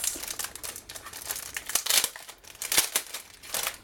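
Thin foil snowflakes for a Christmas card crinkle and rustle close up in a steady run of crackly handling, with no voices.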